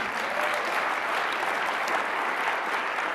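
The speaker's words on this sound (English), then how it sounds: "I'll give you guys a chance to clap if you want to." A conference audience at a SharePoint talk applauds, a dense, even wash of many hands clapping throughout.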